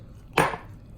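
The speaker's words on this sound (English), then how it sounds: "let's go ahead and start adding our water so we can start making our tortilla masa" Water poured into a bowl of corn masa flour for homemade tortilla dough, a single short splash-like burst of about a quarter second, close and fairly loud, then quiet.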